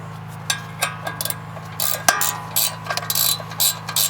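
Ratchet snugging bolts on the rear brakes of a 2020-or-later third-generation Kia Soul, a string of short metallic clicks in bursts over a steady low hum, close and fairly loud with no talking.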